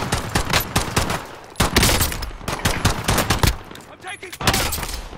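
Rapid automatic gunfire in the Call of Duty Modern Warfare video game, sharp bursts and single shots crackling in quick uneven clusters with brief gaps, loud and close.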